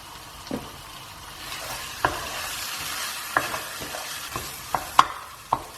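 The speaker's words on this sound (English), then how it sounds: "I'm just going to stir that dal through for about a minute or so." A spoon scrapes and clinks against a pot at irregular intervals as salted Indian dal is stirred over a soft, steady sizzle, with no talking.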